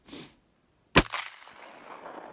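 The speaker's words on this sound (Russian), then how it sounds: "Стреляем сначала главпатроном, делаем выстрел верхним стволом, чоком" A single sharp, whip-like shotgun blast fired from the upper choke barrel with a Glavpatron shot cartridge, outdoors, followed by a brief ringing decay and faint ambient noise.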